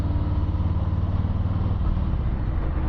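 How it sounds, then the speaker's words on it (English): Harley-Davidson motorcycles including a Road King rumble past with a low, throbbing engine note, steady and fairly quiet at a moderate distance. "Hey, Harleys."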